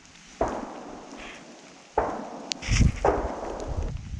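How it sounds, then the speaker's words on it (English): Distant shotgun reports from public hunting land during Iowa deer season, three separate sharp cracks echoing faintly across the landscape, with wind and rustling near the end. "those shots were public hunting over there"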